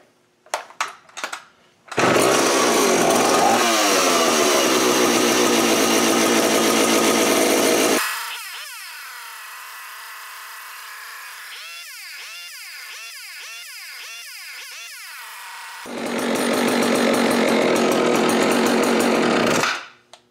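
A Husqvarna L77 chainsaw fires up after a few tugs and runs at a loud high rev, drops back to a ragged idle with a few blips, then revs loud again before cutting off.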